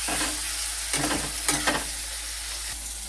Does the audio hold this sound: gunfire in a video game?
no